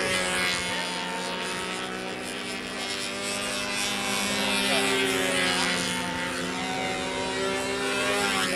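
A control-line stunt model aircraft flying at the 2010 Nats, its small engine holding a steady, loud buzzing drone throughout with strong harmonics and no break.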